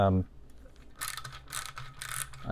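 Small screws being backed out of the headlight assembly on a 2013 Triumph Street Triple R, a close, dry ratcheting click in short bursts, with no one talking.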